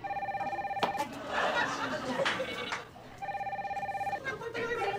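A telephone rings in repeated electronic bursts, pausing while people chatter and laugh, then ringing again.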